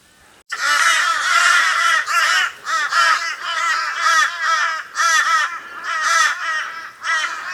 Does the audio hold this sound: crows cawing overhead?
yes